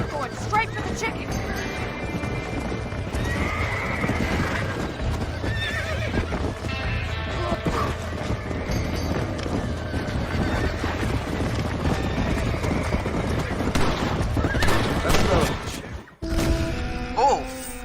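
A horse neighs and hooves clatter in a Western video game amid gunfire and chaotic action, with people talking over the game sounds throughout.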